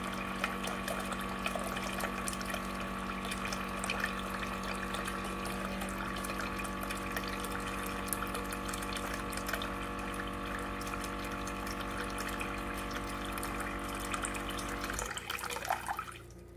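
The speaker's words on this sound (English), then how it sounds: "So that's what it's like to flush the system." An Aquasana countertop water filter dispenser flushes its system with a steady, fairly loud pump hum and running water that holds for about fifteen seconds, then cuts off abruptly, leaving a brief trickle at the end.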